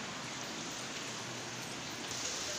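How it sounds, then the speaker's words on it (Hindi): Steady, dense rain pours down without pause, a continuous hiss of drops filling the whole moment. "जैसे ही लग रहा बारिश रुकेगी ही नहीं, आती रहेगी"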